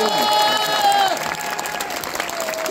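Audience applause at a fan convention talk with Simpsons voice actors, a dense, steady wash of clapping mixed with cheers and whoops from the crowd, loud throughout.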